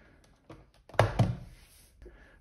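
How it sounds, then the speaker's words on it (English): Magazine sliding and pushed into a Tokyo Marui FN P90 airsoft gun: two sharp close thunks about a quarter second apart, then a fainter click, in an otherwise quiet room. "Insert the magazine by sliding it in, push it down"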